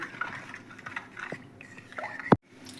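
A spoon clinks and swirls inside a glass of fennel, lemon and water sherbet, with soft wet sloshing and one sharp clink near the end.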